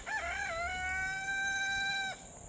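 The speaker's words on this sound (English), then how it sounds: "Oh, these roosters have been practicing." A rooster crows one long, drawn-out call, rising then holding steady before cutting off, fairly close against a quiet background.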